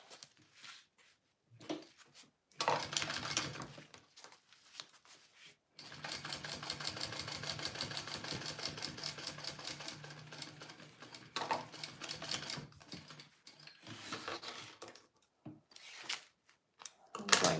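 Sewing machine top stitching a bowler bag, a short run of stitching, then a long steady whirring run, then further brief bursts separated by quiet pauses.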